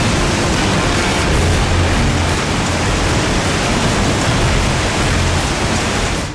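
Swollen rivers in flood in Uttarakhand after heavy rain and cloudbursts, a loud, dense, continuous roar of rushing water filling the whole clip with no voices.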